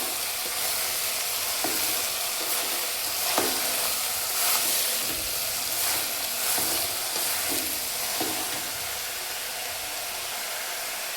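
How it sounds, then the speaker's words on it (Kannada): Bottle gourd kurma mixture fries in a pan while being stirred, giving a steady close sizzle with repeated scraping strokes of the spoon against the pan. "ಚೆನ್ನಾಗಿ ಮಿಕ್ಸ್ ಮಾಡ್ಕೊಳ್ಳಿ."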